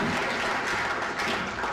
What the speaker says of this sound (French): Des discours ponctués des acclamations.